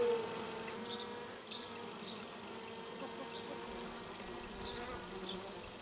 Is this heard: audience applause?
no